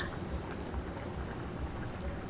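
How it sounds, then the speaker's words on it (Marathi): Fish curry made with bam fish bubbles at a steady simmer in a home kitchen pot, a soft continuous boiling hiss with faint pops, heard alone and fairly quiet. "आपल्या भाजीला चांगली उकळी आलेली आहे"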